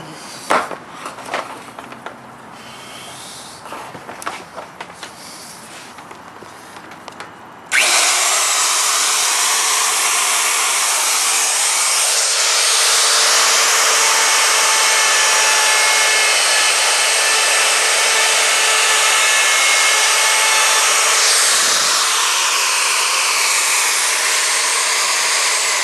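Handheld power router cutting into wood, starting after a few seconds of scattered handling noises and then running as a loud, steady high-pitched whine that holds for the rest of the stretch, close up with no talking.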